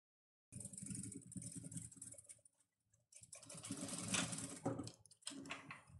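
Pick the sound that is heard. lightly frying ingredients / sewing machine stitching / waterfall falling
sewing machine stitching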